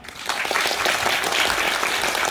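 Audience applause at the closing-night curtain call of the musical Great Legacy (위대한 유산), a dense, steady wash of many hands clapping that holds at full strength for a couple of seconds.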